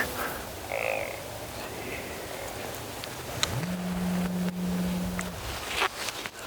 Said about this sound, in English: Grunt tube out there. That's what a real one sounds like.